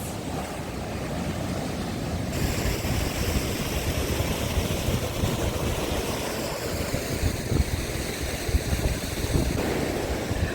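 Sea waves break along a beach in Odesa, a continuous rumbling wash of surf that runs steadily for about ten seconds, with wind buffeting the microphone and no talking.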